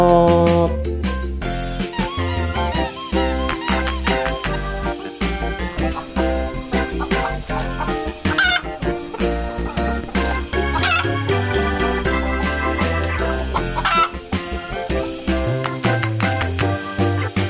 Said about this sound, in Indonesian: Suara ayam tok betok, kok kok kok betok.